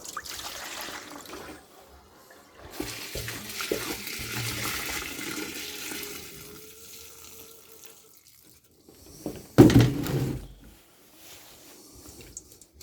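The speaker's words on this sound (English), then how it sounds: "Let's rinse out our bowl." Running water from a tap splashes into a bowl as it is rinsed on a ranch, a rushing stream that rises and falls for several seconds, then a louder burst of splashing before it trails off.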